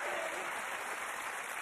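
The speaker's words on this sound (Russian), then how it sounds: "Аплодисменты." A television game-show studio audience applauds with dense, sustained clapping, heard fairly faintly and evenly throughout without any speech.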